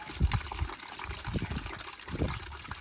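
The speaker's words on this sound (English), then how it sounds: "you get a pretty good flow of water if you turn it all the way out" Water from a water tower tap gushing into a bucket for sugar water, a steady splashing pour with uneven low sloshing pulses, close and continuous.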